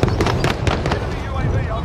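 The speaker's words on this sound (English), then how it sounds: "Who's shooting?" Rapid pops of gunfire on Rebirth Island in Call of Duty Warzone, several close bursts in quick succession, with players talking over the shots.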